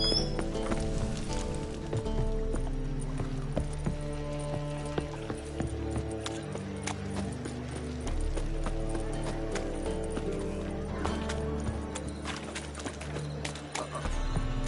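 Steady clip-clop of racehorse hooves continuing throughout, fairly close, over background music and noise with no clear talk.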